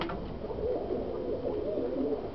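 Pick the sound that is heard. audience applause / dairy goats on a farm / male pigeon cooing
male pigeon cooing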